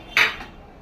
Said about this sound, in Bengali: দেখুন ঢাকনাটা খুলে